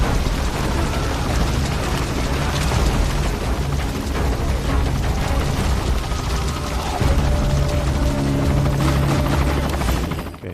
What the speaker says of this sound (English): That is not our helicopter, that's actually an enemy